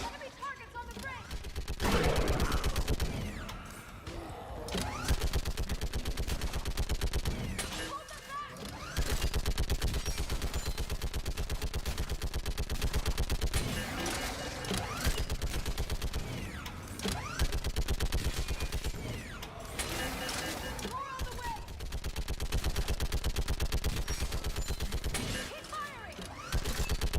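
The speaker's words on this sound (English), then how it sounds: "Okay, you gotta get on your machine gun. Put it to use." Machine gun fire in the video game Mass Effect 3, loud sustained bursts of gunfire with sharp impacts over about twenty-five seconds, under a player talking at times.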